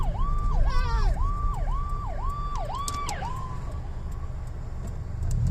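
An Adams County Sheriff vehicle's siren wails nearby in a fast repeating yelp of about six rising-falling sweeps, heard from a passing car with road noise underneath, then breaks off and leaves only the engine and road hum.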